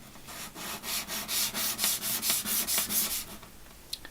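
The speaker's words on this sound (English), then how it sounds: "I'm just going to rub the bottom of the pot." Quick rhythmic rubbing scuffs the bottom of a 3D-printed bonsai pot, about a dozen close, even back-and-forth strokes, followed by a small knock at the end.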